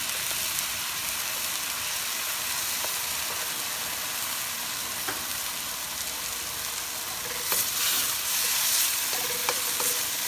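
Pork with minced garlic and fish sauce, cooking for kare kare, fries in a pan with a loud, continuous crackling sizzle, and a few scraping clicks from the stirring come through over roughly ten seconds.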